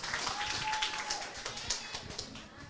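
An audience at a meet-and-greet for The ICON Indonesia top 4 finalists gives quiet, scattered applause, a soft patter of claps heard from a distance and fading toward the end.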